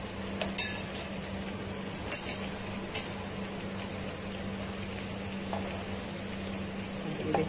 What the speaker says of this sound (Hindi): चांपे हमारी तकरीबन फ्राई हो गई हैं